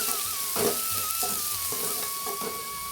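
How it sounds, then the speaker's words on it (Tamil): Chopped onions sizzle steadily in hot oil in a pan for an egg curry, a continuous frying hiss with soft stirring scrapes and a faint tonal whine running underneath. "வெங்காயம் எல்லாம் சேர்த்துட்டு நல்லா வதக்கிடுவோம்."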